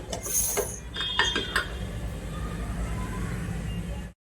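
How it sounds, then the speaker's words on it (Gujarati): A pressure cooker lid is closed with several metallic clinks and clatters up close in the first couple of seconds, followed by a quieter stretch that cuts off abruptly. "આપણે કુકર ઢાંકી દઈએ"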